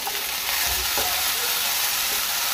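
Steady, loud sizzle of something frying in a pan for egg curry, a continuous hiss with faint stirring scrapes, no voices.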